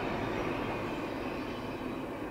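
A short CSX freight train with a DPU rolls past at night, a steady broadband rumble and wheel roar at moderate distance, fading slightly toward the end.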